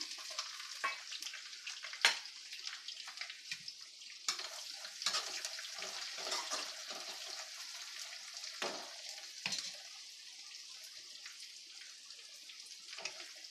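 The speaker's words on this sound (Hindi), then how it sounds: "और जब सरसों चटक जाए फिर उसमें हम दो मीडियम साइज़ के प्याज अच्छे से पतले पतले काट लेने हैं वो डालने हैं" Thinly sliced onions fry in hot oil after crackled mustard seeds for a Bihari-style suran curry, with a soft, continuous sizzle broken by occasional stirring scrapes and clinks.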